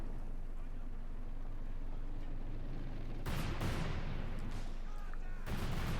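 Cluster bombs bursting in the World War II strategy game Company of Heroes 2: a steady battlefield rumble broken by two loud explosive bursts, one of them lasting about two seconds, with a commentator talking faintly underneath.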